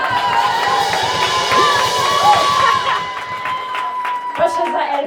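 A concert audience cheering and clapping for the singer, with shouts and whoops over scattered claps, and voices calling out in the crowd.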